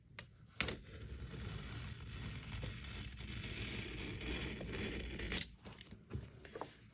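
Scissors slicing a page from a vintage Freemason heirloom Holy Bible: a steady papery cutting and tearing rustle lasting several seconds, bracketed by sharper snips and handling noises at the start and end, close and fairly loud, with no talking.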